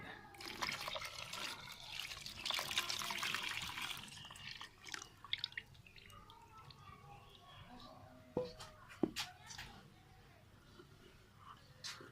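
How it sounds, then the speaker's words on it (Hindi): Milk poured into a homemade thandai drink, a close liquid splash and trickle followed by faint drips and small clinks, quiet overall. "ये दूध डालेंगे अभी।"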